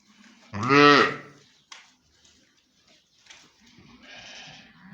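A meat ewe bleats once, loud and close, a wavering cry that fades out, followed by faint rustling and quiet background noise of a sheep pen.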